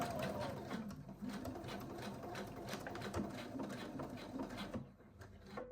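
A sewing machine stitches the two ends of an elastic band together for a self-drafted midi skirt, running in a steady close whirring burst for about five seconds before it stops.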